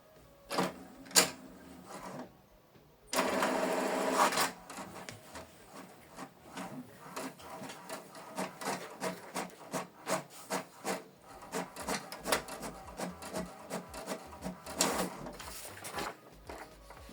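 An HP Deskjet 2700 series inkjet printer prints a test page, running with a whirring mechanical burst, then a long series of rapid rhythmic clicks and rasping feed sounds, fairly quiet and with no voices.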